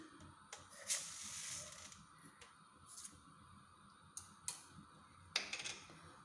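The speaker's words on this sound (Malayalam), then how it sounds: "കടുക് പൊട്ടി" Mustard seeds splutter in hot coconut oil in a clay pot for Kerala-style prawn mappas, giving scattered sharp pops and crackles at irregular intervals, fairly quiet, with a brief burst of hissing early on.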